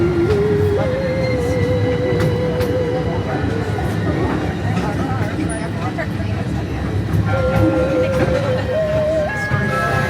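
A small passenger train ride rolls through Gatorland during a Halloween event, with a steady loud rumble of wheels, squealing tones and rattling, and people talking over it throughout.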